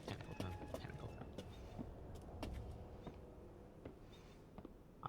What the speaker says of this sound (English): That's her footsteps.